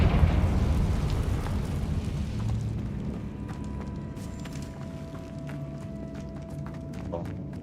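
A Confringo blasting spell explodes in the video game Hogwarts Legacy with a heavy, rumbling burst at the start. The blast fades into a lingering low roar with scattered clatter afterward.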